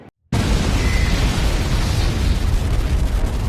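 A loud blast goes off during a night-time UV art session with fire, erupting suddenly after a brief silence and then rumbling on as a sustained, broadband roar for several seconds.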